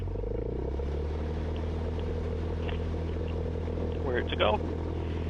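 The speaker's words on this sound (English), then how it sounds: "Full throttle, and we're going." A Cessna 172 Skyhawk engine at full throttle for takeoff makes a steady, loud droning hum. A voice speaks briefly near the end.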